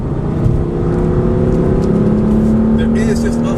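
A 2015 BMW M3/M4 twin-turbo engine held at full throttle on the Road America racetrack, with a steady, loud, rising drone heard from inside the car and a voice speaking over it.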